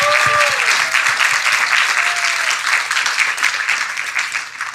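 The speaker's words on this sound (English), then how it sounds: "let's give a round of applause to every single one of you who made this journey unforgettable" Loud, dense applause from an audience at an honours symposium, steady throughout with a brief tonal voice or cheer at the start.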